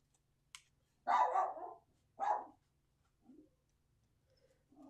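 Dogs shut out of a room bark in two loud, close bursts, followed by a couple of fainter, shorter yaps against a quiet indoor background.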